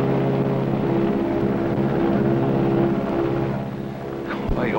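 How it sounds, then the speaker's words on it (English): A steady low engine drone from a passing airplane hums continuously at moderate loudness, fading slightly near the end as it moves away, with no talk over it. "Sounds like the plane."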